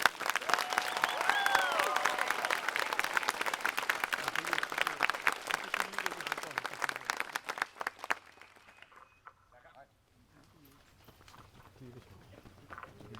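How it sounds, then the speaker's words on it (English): Applause from an audience for marching band members: many hands clapping loudly and steadily for about eight seconds, then fading to a quiet room with faint scattered sounds. "So can we give them a huge round of applause?"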